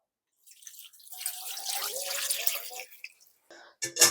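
Salt water pours and splashes steadily over young radish (yeolmu) in a bowl for kimchi. The pour is moderately loud and lasts a few seconds, then thins to drips and ends with a sharp clatter.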